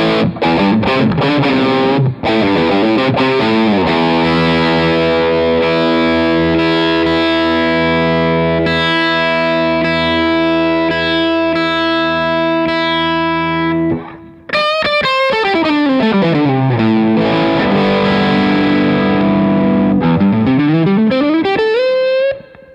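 Electric guitar driven through an AS Pedals Wild Lobo overdrive pedal into a pushed Revv amp, ringing sustained gritty chords and a sliding run, loud and continuous with no talking.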